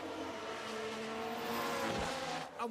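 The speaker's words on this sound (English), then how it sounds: "And we've had a crash on track." Race cars in the F1 Manager 23 video game drone with a continuous engine roar and tire squeal, heard at a low, steady level. No distinct impact stands out and no one speaks.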